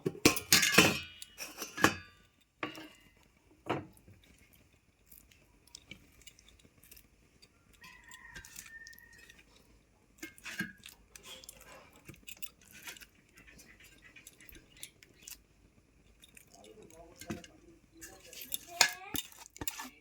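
Clinks and knocks of a utensil and glass or steel container as marinated hilsa fish in mustard is lifted into a box, several separate taps and scrapes over a quiet kitchen background.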